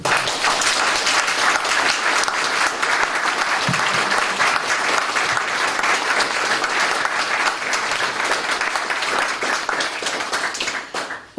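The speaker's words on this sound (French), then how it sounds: "Je vous demande de les applaudir." Sustained, dense applause from a large audience at a celebration honoring volunteers, loud and steady throughout before tapering at the very end, with no talking over it.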